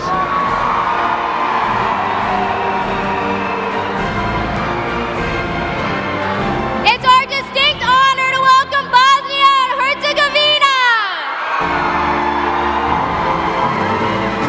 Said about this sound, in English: Let's hear you yell for Belarus.